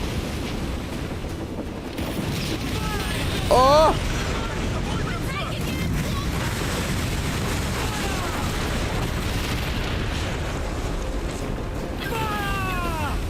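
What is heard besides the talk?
ship cannon fire in video game Assassin's Creed Black Flag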